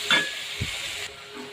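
Spices sautéing in a pan with eel fish and taro stems, a steady close sizzle with a soft stirring scrape partway through, the hiss dropping slightly toward the end.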